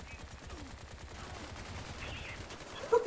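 Gunfire from the video game Bright Memory, a steady dense crackle of rapid shots running throughout under game sound, with a few sharper bursts near the end.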